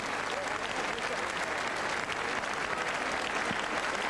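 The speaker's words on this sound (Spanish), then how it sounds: "Ahí tienen los aplausos del público para el nuevo campeón" A crowd applauds a new continental heavyweight boxing champion after a bout, a dense and steady roar of clapping that lasts the whole stretch, with an announcer faintly audible underneath.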